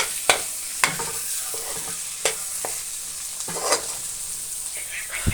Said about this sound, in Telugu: నువ్వులు ఫ్రై